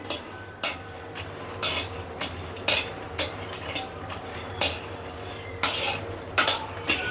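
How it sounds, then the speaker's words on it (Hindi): Ingredients dry-roast in a pan over a low flame while a utensil scrapes and stirs them in regular strokes, leaving a soft background hiss between the sharp, evenly spaced scrapes. "मैं सारी इसको भून लेती हूँ। धीमी धीमी आंच में भूनूंगी।"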